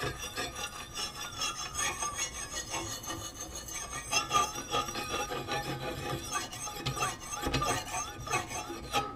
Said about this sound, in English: I'm gonna go to the indie stones and start to polish this out a little bit.